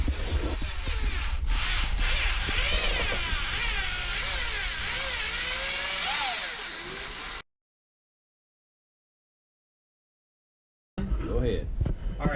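Brass .338 Lapua cases are neck-turned on a carbide turning mandrel, giving a steady scraping, rubbing whir that runs for several seconds, goes silent, then picks up again near the end.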